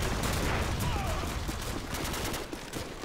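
Rapid, dense gunfire from Call of Duty, sustained bursts of automatic shots with a crackling rhythm at moderate loudness, continuing without pause and slowly fading slightly toward the end.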